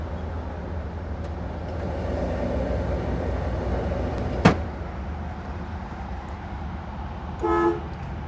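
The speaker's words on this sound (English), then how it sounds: "Horn." A brief honk from the horn of a restored Oldsmobile 442 convertible with a PowerGlide automatic, sounding once as a short blast over a steady fan and engine hum, with another short blip later.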